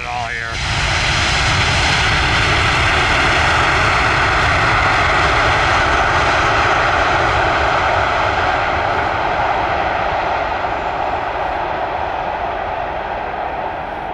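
A Boeing 787-10 Dreamliner jet airliner roars at an airport, its engines producing a loud, sustained, broadband rumble and whine that stays steady for the full length, heard nearby without talk.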